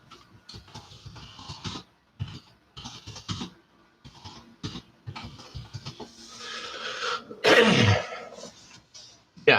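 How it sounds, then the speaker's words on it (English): A single person gives a light cough in a quiet indoor room: short, rough throat bursts and clearing sounds, with a sharper, louder burst near the end. "you just heard me, that very light cough"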